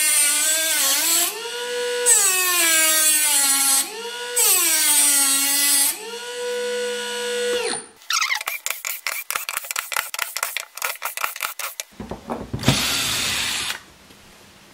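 A small homemade PCB saw driven by an RC motor through a pulley whines up and down in pitch in repeated bursts, then gives way to rapid chattering cutting noise and a final loud high-pitched grind, close and with no talking.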